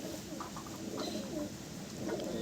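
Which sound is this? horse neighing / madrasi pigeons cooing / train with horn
madrasi pigeons cooing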